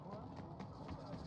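Clip-clop hoofbeats of a horse-like riding animal in the Star Wars Outlaws video game, quick rhythmic steps under someone speaking.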